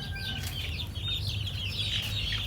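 Chickens cluck and chatter steadily over a low hum, with a few higher bird calls mixed in, moderately loud and close.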